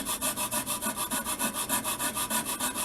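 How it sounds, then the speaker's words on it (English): A wooden model glider wing is sanded at an angle in quick, steady back-and-forth strokes, about six per second, close and clear with no talking. "Just sand that down."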